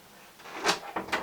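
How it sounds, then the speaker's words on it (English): A room door swings shut in a quiet indoor space, giving a few soft, close knocks and a final thud over faint background hush. "including my door closing."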